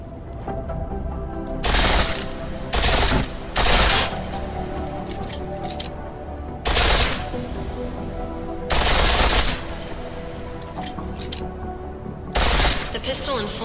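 Pistol firing in full auto at a shooting range in Deus Ex, loud rapid bursts of gunfire in about six separate volleys, with someone speaking between them.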